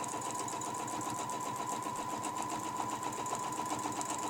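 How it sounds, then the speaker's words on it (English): A sewing machine stitches a quilting line along a ruler, a steady close whirring hum with a fast, even mechanical rhythm running continuously and alone. "we're going to stitch our first line"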